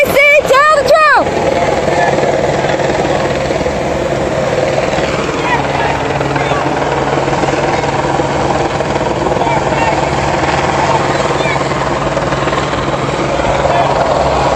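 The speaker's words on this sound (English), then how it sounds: "Helicopter's making it hard to hear." A helicopter hovers directly overhead at an outdoor CDC protest rally in Atlanta, its loud, steady rotor roar filling the whole stretch, with a brief whistle-like burst at the start and crowd voices underneath.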